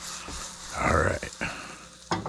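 An omelette fries in a pan with a little extra butter, giving a soft sizzle that swells in the middle and is broken by a few short clatters of the pan near the end.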